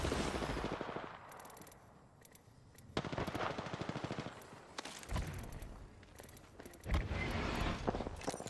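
Automatic weapons fire in Apex Legends: rapid bursts of gunshots come in several volleys separated by brief pauses, loud and close, with a few scattered single shots.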